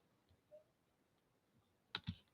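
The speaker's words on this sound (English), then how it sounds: "So, Shanette, can you type that up?" A computer keyboard tapped a couple of times in quick succession, faint and brief clicks near the end after a quiet stretch.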